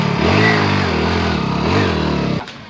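A motorcycle engine revs in a Gujarati village comedy sketch, rising and falling steadily for about two and a half seconds before cutting off abruptly.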